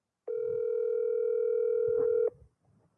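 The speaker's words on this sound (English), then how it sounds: "Hang on, let's call Big Mike." A single long telephone tone from an outgoing call sounds steadily for about two seconds, a clean unwavering pitch that cuts off abruptly and leaves near silence.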